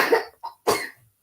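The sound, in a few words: girl coughing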